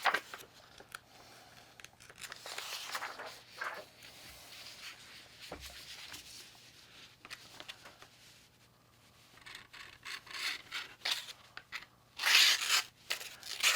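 Sharpened knife edge drawn through a sheet of copy paper, giving soft crinkly rips and rustles in several bursts, with a louder tearing stroke near the end; close and fairly quiet, no talking.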